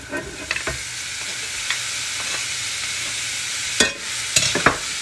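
Minced meat frying in a pan with spices, sizzling steadily while a spoon stirs it in several distinct scrapes and clatters, close and fairly loud with no talking.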